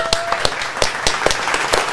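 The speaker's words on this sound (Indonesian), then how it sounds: "Oke, tepuk tangannya mana untuk dua narasumber kita." Audience applause for two speakers at a Nutanix tech talk event, a moderate scattering of hands clapping with distinct individual claps in an uneven rhythm, with voices faintly present underneath.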